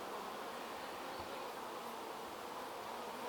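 Honey bees buzz around a hive in a dense, continuous drone, close and steady with no pauses or voices.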